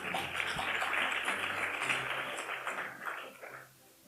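Warm audience applause for a contestant at a Korean-language speech contest held during a Japan-Korea friendship festival in Shizuoka, a steady crowd of clapping that fades away near the end.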